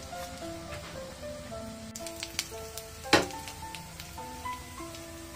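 Beef tripe tikka sizzles in oil as the pieces are turned to fry both sides: a steady crackle with scattered pops and one sharp clatter midway, under quiet background music.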